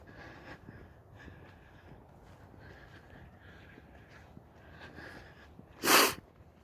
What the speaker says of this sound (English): Sorry about all the sniffling.